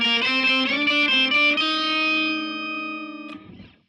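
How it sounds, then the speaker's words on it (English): A Stratocaster on its bridge pickup plays through a Joyo R-13 octave pedal, a single sustained distorted note with thick octave harmonics, picked a few times, then fading and cut off at the end. "With my Strat on the bridge pickup, it sounds like this."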